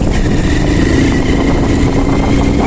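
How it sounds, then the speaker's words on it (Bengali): A motorcycle modified to ride higher than a standard bike runs close by, its engine giving a loud, steady, continuous drone with a low tonal hum throughout and no talking. "নর্মাল যে বাইক থাকে ওই বাইকের থেকে এগুলো একটু মডিফাই করে উঁচা করা হয়েছে"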